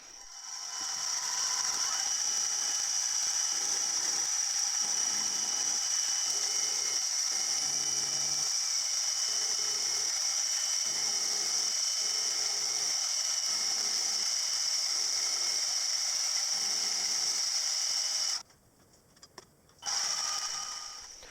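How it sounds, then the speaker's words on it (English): Milling machine cutting out the cylinder of a Stuart Progress oscillating steam engine model, a steady loud high-pitched whine over rhythmic grinding chatter that pulses in regular passes, cutting out briefly near the end before resuming. "So I'll just get on and mill it out at super warp speed."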